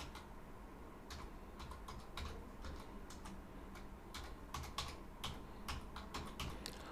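Quiet keystrokes on a computer keyboard, a light irregular run of clicks with brief pauses in between, close to the microphone against a low room hum, with no one speaking.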